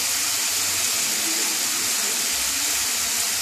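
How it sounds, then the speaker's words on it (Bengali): Water pours into a cooking pot for lau chingri, bottle gourd with prawns, a steady close gushing splash with a bright hiss that stays loud and continuous throughout. "এবারে আমি একটু জল দিয়ে দিচ্ছি"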